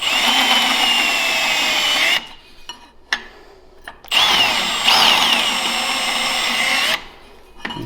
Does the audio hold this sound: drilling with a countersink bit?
yes